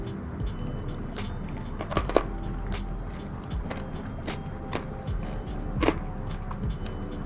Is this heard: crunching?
yes